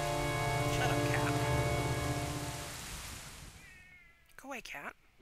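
A ginger cat meows a few times up close near the end, short rising and falling cries after a long droning hum fades out, with a voice nearby.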